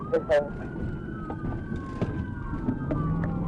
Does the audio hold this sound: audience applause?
no